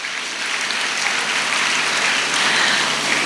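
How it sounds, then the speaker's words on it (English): Loud, continuous audience applause fills a pre-university college student orientation hall, a dense even roar of clapping from many hands with no letup. "Give a big round of applause."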